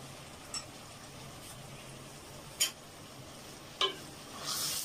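Chicken coated with red chili powder, spices and salt is stirred in a pan: a quiet, low sizzle with a few distinct spoon knocks against the metal, spaced a second or two apart.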